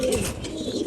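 Grizzle pigeons at a loft coo softly in a short, low, close call with a faint airy background.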